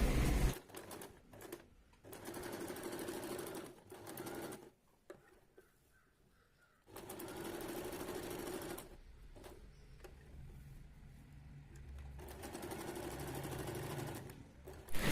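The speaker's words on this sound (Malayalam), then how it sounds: "പിന്നെ ഇത് നമുക്ക് തയ്ച്ചെടുക്കാം" Sewing machine stitching fabric for a sleeve runs in several sustained bursts of steady whirring, stopping briefly between passes, close and clear with no talking.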